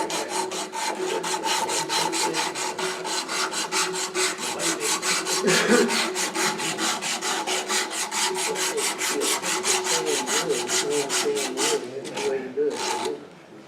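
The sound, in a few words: sanding old hard mahogany wood from the inside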